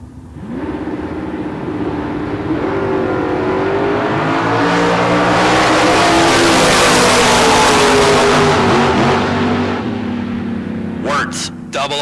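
Drag race cars, a 1965 Chevelle and a 1963 Corvette, launch off the line at a bracket race, their engines roaring loud and rising in pitch for several seconds, steady and close, then fading, with crowd or announcer voices faint beneath.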